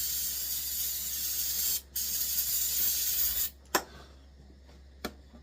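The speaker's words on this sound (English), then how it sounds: "See if we get any action with the spray." An aerosol can sprays onto a two-door car in a no-start attempt, a long loud steady hiss followed by a brief pause, another burst, then short spurts, with a low hum underneath.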